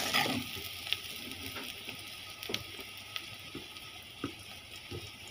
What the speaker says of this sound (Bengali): মরিচগুলি খুব ছিটছে।